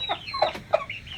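Bangkok hens of Birma descent, close to laying again, give a few short, close clucks in quick succession, with no voices present.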